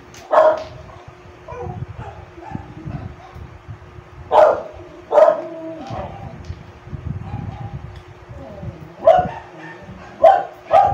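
Indoor dog barking in a few spaced bursts, sharp close barks separated by pauses, with a person speaking quietly in between.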